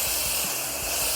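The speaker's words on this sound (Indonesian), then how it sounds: "Cat semprot." Spray paint hisses from an aerosol can onto a dress, a steady airy spray held throughout at moderate-low loudness, no voices.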